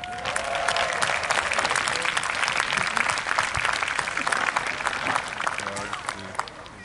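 Spectators at an international medieval jousting tournament at Arundel Castle keep up loud, steady applause and cheering, a dense wash of clapping that lasts throughout with no break.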